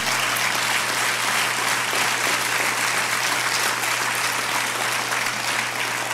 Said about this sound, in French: je vous demande quand même de l'applaudir